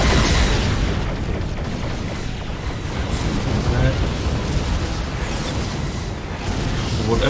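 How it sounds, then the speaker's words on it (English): Dense, continuous rumbling booms and bursts of space-battle torpedo explosions in the Star Trek Armada Uprising strategy game, loud and sustained throughout with no clear gaps. "They are spamming so many torpedoes."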